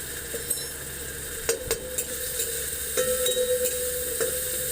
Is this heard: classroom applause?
no